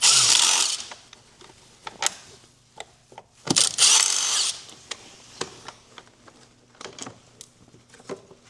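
Tool work on a T40 Torx fastener of a Polaris Sportsman 570 ATV during a battery replacement: short whirring spins, dense ratcheting clicks and sharp metallic taps, loud and close, broken by brief pauses.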